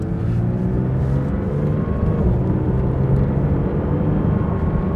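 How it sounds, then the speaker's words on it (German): A 4-litre flat-six Porsche GT3 engine drones steadily, a deep rumbling tone with a slight rise in revs midway, loud and close. "Das ist ein 4 Liter 6-Zylinder Boxer"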